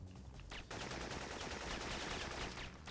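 Gunfire in the video game Syphon Filter, a dense continuous burst of loud shots filling the moment, with no talk over it.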